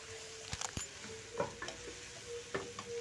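Potatoes and chicken fry in a pot as they are stirred, with quiet sizzling under a few sharp utensil scrapes and knocks against the pot at uneven intervals.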